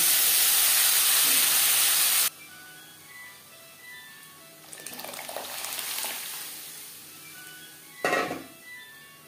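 Boiled moong dal hits a hot pan with whole cumin, setting off a loud, close sizzle for about two seconds that cuts off abruptly, followed by quieter bubbling and a couple of faint clatters.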